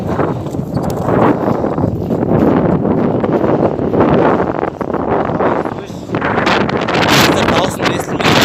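Strong mountain wind roars and buffets the microphone in a continuous, loud rush that swells and dips without pause, near where horses are being watered.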